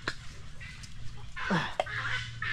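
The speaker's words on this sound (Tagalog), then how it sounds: "Napakaingay ng pizarro Mama Sir. Daming birds." Many birds calling noisily at an indoor bird place, with honking and quacking cries like ducks or geese overlapping in a busy, continuous chorus, close by.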